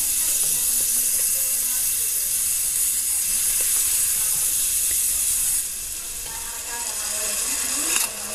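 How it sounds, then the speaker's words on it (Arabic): Black pepper and cloves toast in a pan, a soft steady sizzling hiss with faint scraping and clicking of stirring, quieting slightly toward the end. "أحمسهم بهذا الشكل حتى تكون ريحتهم بعد أكثر يعني طيبة تبين بالقيمة"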